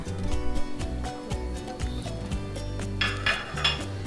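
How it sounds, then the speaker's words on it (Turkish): Poğaça dough with baking powder and chopped dill being mixed in a bowl, a steady scraping and rubbing of a utensil against the bowl with a few brighter clinks toward the end. "iyice karıştırıyoruz."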